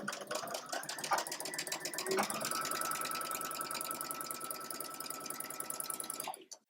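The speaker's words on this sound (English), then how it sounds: "And I'm chain stitching mine together" Sewing machine chain stitching quilt fabric pieces together, a fast steady mechanical whir of needle strokes running without pause for about six seconds before stopping, close and alone.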